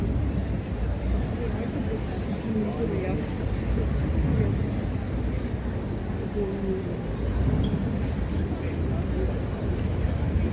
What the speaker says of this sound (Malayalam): ആളുകൾ പോകുന്ന ബോട്ടുകളാണ് ബസ് സർവീസ് പോലെ ബോട്ട് സർവീസാണ്